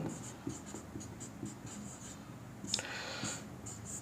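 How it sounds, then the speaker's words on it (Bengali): A pen writes out maths working on paper in a steady run of short scratching strokes, close and fairly quiet, with a louder scrape partway through and no talk over it. "তাহলে আমরা লিখছি দেখো"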